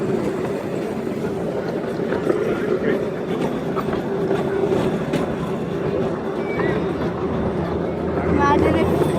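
A small downtown ride-on train rolling along its rails, giving a steady rumbling clatter with occasional squeaks and clicks, moderately loud and continuous throughout.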